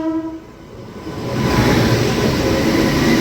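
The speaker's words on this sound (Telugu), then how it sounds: "నిడదవోలు జంక్షన్ రైల్వే స్టేషన్లోకి ఎంటర్ అవుతూనే మనకి వ్యాప్ 7 లోకోమోటివ్తో ఒక ట్రైన్ వస్తుంది" The Tirumala Express, hauled by a WAP 7 electric locomotive, rolls into Nidadavolu Junction station. A brief tone is followed by a swelling, broad rumble of the train drawing near, loud and steady, with no voices.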